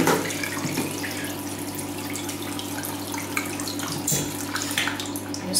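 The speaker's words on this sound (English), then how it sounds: "So I'm gonna wash my face now." A bathroom tap runs steadily into a sink while someone washes their face, a loud, close, continuous rush of water with small splashes and no talking.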